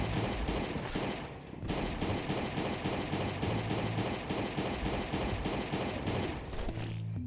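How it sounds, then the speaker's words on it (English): Rapid bursts of gunfire aimed at sailor enemies in the survival video game Last Day on Earth: Survival, loud continuous volleys with a brief pause near the start, no talking. "So I'm gonna use my guns on these sailors."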